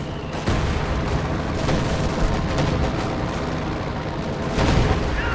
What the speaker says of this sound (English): I thought the artillery were far more impressive